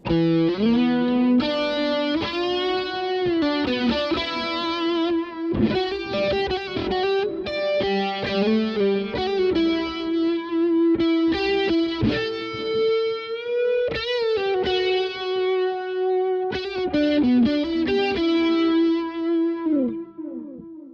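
A distorted electric guitar plays a sustained, singing lead melody with echoing repeats trailing each phrase, loud and alone.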